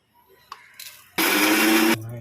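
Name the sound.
mixer grinding ginger with salt and asafoetida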